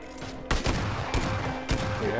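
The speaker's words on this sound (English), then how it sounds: "I'm taking fire" Shots ring out in the battle royale game PUBG, three loud cracks spaced roughly half a second apart, each with a short decay, over a constant low game drone.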